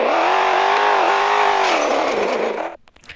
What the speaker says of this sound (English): Let's hear the engine on this thing